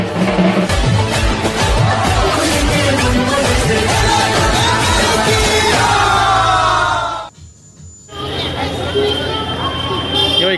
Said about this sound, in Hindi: कांचरापाड़ा में इतना भीड़ है